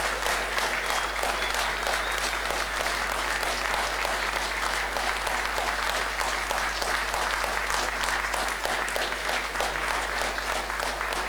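A large audience claps steadily and loudly for an honored member at a gathering, the dense applause holding even throughout with no voices on top.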